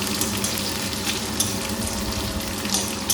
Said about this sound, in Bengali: এই যে পেঁয়াজ ভাজা হয়ে গেছে